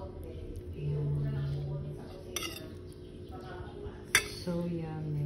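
Utensils clink against a bowl while a Filipino salad with salted egg is tossed and mixed, giving a few light clinks and scrapes over background noise and faint music.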